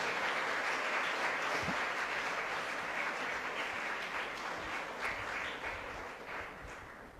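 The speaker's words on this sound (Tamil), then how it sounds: "ஒரு பெரிய கைத்தட்டலை எழுப்ப வேண்டிய அவசியம் இருக்கு" A large audience at a Republic Day special debate forum claps steadily in sustained, dense applause that fades slightly toward the end, with no voices over it.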